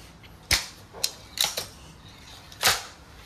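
A Crosman MagFire Ultra .177 break-barrel air rifle is cocked, giving a handful of sharp, close mechanical clicks and snaps spaced irregularly, with one louder clack near the end.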